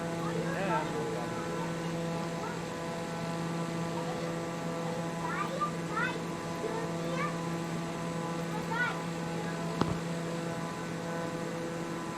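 An aircraft engine in a flight simulator video game drones in a steady, even hum throughout, with faint chirpy voice-like sounds over it and a brief click near the end.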